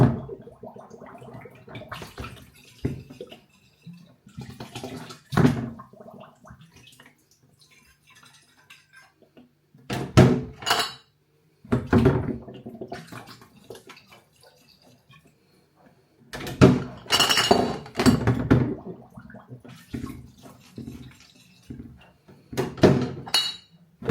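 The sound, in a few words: rinsing and sterilising glass homebrew bottles with sterilising fluid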